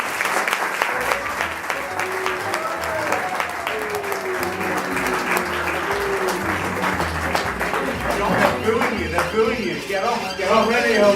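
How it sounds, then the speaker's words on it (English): A theatre audience at the Nottingham Theatre Royal pantomime launch applauds steadily and loudly throughout, with music playing underneath the clapping. "Please give a huge round of applause to John Challis."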